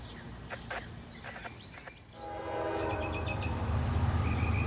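A Norfolk Southern gondola freight train with two Union Pacific locomotives leading sounds its horn in short blasts, then a longer blare over a rising rumble of the passing train, with faint bird calls.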